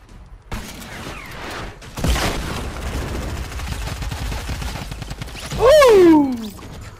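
Gunfire in Fortnite Battle Royale, shots from a distant cliff. Sharp cracks and bursts are spread across the clip, with a brief rising whistling sweep near the end.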